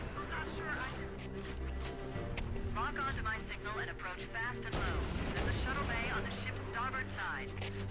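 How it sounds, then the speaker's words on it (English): Sniper rifle fire aimed at Elites in Halo: Combat Evolved Anniversary, mission Truth and Reconciliation, with rumbling booms and gunfire steady beneath a continuous game soundtrack and effects. "use my sniper to take out most of the elites"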